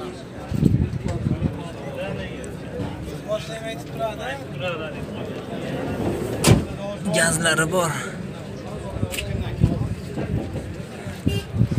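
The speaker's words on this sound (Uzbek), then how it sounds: "eshikni yopilishini qarayman bagajni" A Damas minivan's rear trunk door slams shut with one sharp thump at a busy Andijan car market, amid background bustle and people talking.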